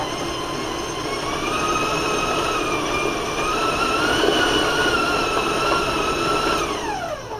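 A stand mixer with a paddle beating peanut butter cookie dough gives a steady whine that climbs in pitch as its speed rises, loud and close, then winds down near the end.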